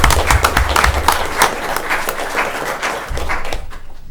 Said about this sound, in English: How about a round of applause for Dave?